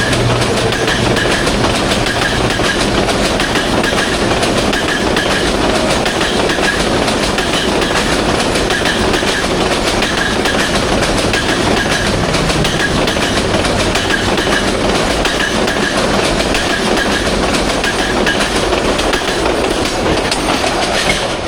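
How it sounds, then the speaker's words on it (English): Mahanagar Express 721, a Bangladeshi intercity passenger train, rolls past the Pahatoli railway crossing with loud, steady rumble and rhythmic clickety-clack of wagon wheels on rails, continuous and close throughout. "Bangladesh famous Intercity train Mahanagar Express 721 locomotive now"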